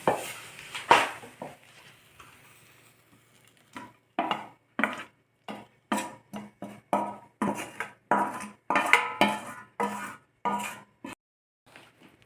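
Added ingredients being stirred into dosa-style batter with a spoon in a bowl, steady rhythmic scraping and slopping strokes repeated close up, with brief pauses and no talk.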